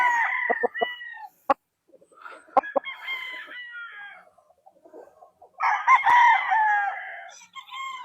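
A sweater gamecock rooster crows loudly and close by at a gamefarm in Bustos, Bulacan. It gives short clucks and a couple of sharp knocks, then a long, ringing crow near the end.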